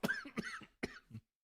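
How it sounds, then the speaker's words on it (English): A man gives a quick burst of three or four dry coughs, close and fairly quiet, then silence. "now you're making me cough"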